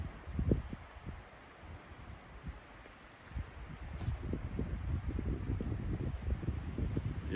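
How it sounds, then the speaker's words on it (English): Wind moving through a Tucker County, West Virginia forest, a low rumbling gusty rustle rising and falling, with faint rustling of leaves and occasional bumps, heard alone with no voices. "Just the wind."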